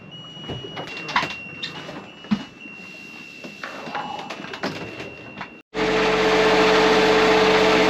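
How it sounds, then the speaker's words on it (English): A boat's generator, jump-started from the bow thruster battery at sea, suddenly catches and settles into a loud, steady running drone after a stretch of quieter clattering and background noise. "got the generator to go"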